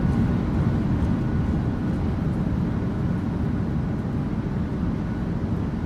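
An airliner in a flight simulator game, a Norwegian PMDG 737, rolls out after landing with speed brakes up and two thrust reversers, giving a steady, loud broadband engine roar with no voices.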